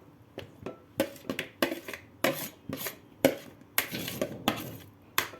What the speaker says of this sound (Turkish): Şeker pancarımı döktüm